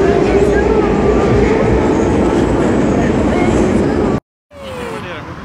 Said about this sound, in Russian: а мы в метро вот едем